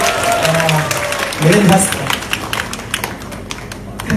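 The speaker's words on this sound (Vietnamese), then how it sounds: "Một tràng pháo tay chào đón Jim" Audience at a Vietnamese live-music lounge claps to welcome a saxophonist onto the stage, brisk scattered applause heard close, mixed with talking voices over it.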